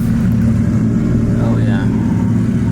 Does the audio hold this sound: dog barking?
no